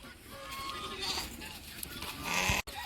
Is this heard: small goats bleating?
yes